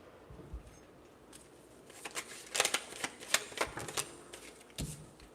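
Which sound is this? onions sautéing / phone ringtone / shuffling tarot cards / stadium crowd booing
shuffling tarot cards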